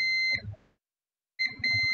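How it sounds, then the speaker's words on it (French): A shrill electronic beep from a continuity tester probing a fuse on a Lenovo IdeaPad 1 15ALC7 laptop backlight circuit sounds, cuts off into silence, then resumes, with faint crackles beneath the tone. "Là, ça bip."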